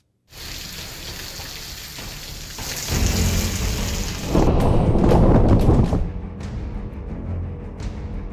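Heavy monsoon rain pours steadily in Rewa, Madhya Pradesh, a loud continuous wash that swells stronger midway, with deep rumbling that resembles thunder or rushing runoff underneath.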